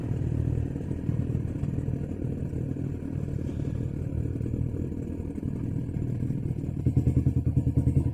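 A motorcycle engine idles steadily nearby with a low, even rumble while its battery charging system is checked, and a faster pulsing patter picks up near the end.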